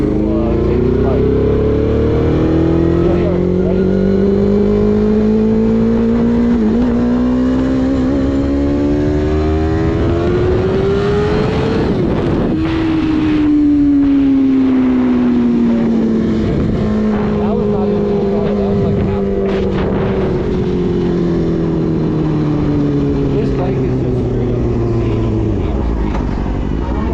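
A 2003 or 2005 Suzuki GSX-R 750 sport bike engine revs hard while riding, rising and falling through several gears with a brief dip midway. It is loud, close and continuous under heavy wind buffeting.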